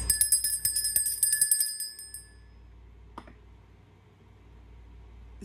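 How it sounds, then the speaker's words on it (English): A small hand bell rings in a quick run of bright, shimmering strokes for about two seconds, then fades out, followed by a single faint knock in an otherwise quiet room. "It's been a while since I rang a bell."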